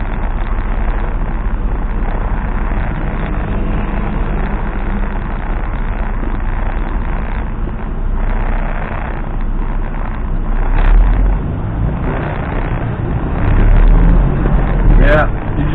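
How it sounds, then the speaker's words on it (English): Steady low road and engine rumble inside a car crawling through heavy traffic on I-5 north toward Portland, with people talking over it throughout. "This traffic is bad."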